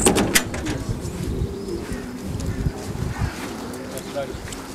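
Homing pigeons coo and flutter at their loft after a race flight, soft bird sounds close by under ongoing talk and background murmur.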